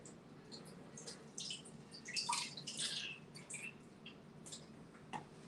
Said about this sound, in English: these cans of tomatoes, I think I'm gonna drain them because they're very liquidy